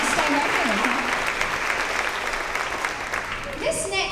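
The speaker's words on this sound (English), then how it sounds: "let's give Nevaeh a round of applause" An audience at a second-grade promotion ceremony applauds a student, with loud, steady clapping throughout and a few brief voices rising over it near the end.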